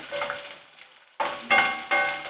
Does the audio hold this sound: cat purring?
no